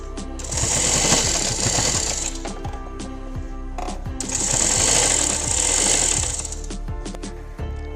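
A sewing machine joins the seam of a one-year-old's baby frock, running in two loud bursts of fast, rattling stitching close by, separated by a short pause with a few mechanical clicks.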